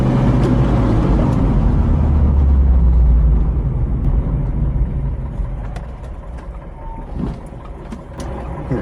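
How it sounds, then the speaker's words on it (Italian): A 1981 Bedford CF van with disc brakes brakes hard in a stop test, a loud low engine and road rumble that eases and fades as the van slows, with faint clicks near the end. "adesso è arrivato il momento di fare il test freni"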